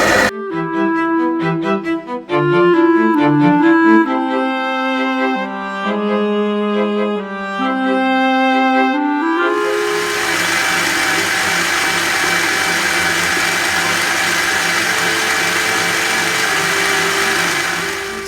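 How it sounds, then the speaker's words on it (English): An electric mixer beating sugar into chocolate birthday cake batter. Music plays first, then a loud, steady whirring drone starts and runs without pause. "So guys, mixing the sugar now."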